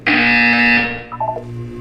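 A loud, steady electronic buzzer from the Portal 2 video game sounds alone and holds for under a second, then gives way to a brief, quieter warbling electronic tone.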